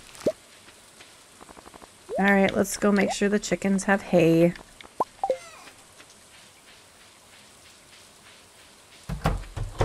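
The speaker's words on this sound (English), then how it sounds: "Yes, another rainy day." Rain falls in Stardew Valley as a steady, soft hiss of patter that runs throughout, with a voice speaking over part of it.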